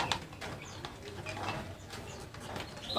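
A small sirtu songbird calls outdoors with soft, repeated short notes spaced across a few seconds, faint and fairly distant against a quiet background, with no one speaking.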